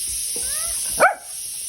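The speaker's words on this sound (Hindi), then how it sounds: "ये हमें कमेंट्स में बताओ कि ये सिर्फ मेरा कुत्ता कर रहा है या आपके भी करते हैं" A pet dog gives a single sharp bark in a home kitchen while rajma cooks, the bark brief and near over a constant hiss of steam.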